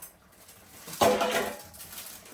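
A short clatter of dishes, pots and pans being washed at home, one brief clinking burst near the middle over faint background noise, no talk.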